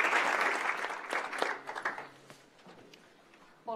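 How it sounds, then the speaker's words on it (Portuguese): Applause from a conference audience for a guest speaker, Catuxa Bento, at a Brazil forum in the UK, loud clapping at first that thins out and fades, with a brief voice at the very end. "Uma salva de palmas para Catuxa, que aceitou o nosso convite."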